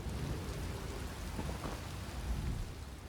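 Thunderstorm in Elder Scrolls Online, with a constant wash of rain and deep thunder rumbling low and continuous throughout.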